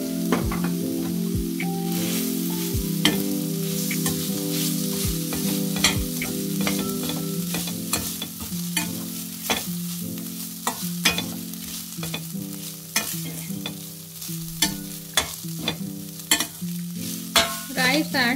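Rice tossed with curry leaves in a hot pan gives a loud, close sizzle, with a steady low hum and rapid, repeated sharp clicks and scrapes of stirring that grow sparser and crisper toward the end, no talking.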